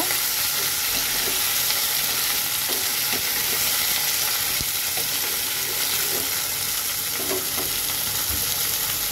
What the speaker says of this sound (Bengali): আমি এখন একটু নেড়ে দেব।